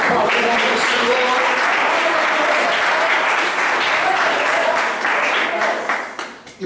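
A church congregation applauds steadily, a dense wash of many hands clapping at full volume with some voices mixed in, thinning out in the final moments.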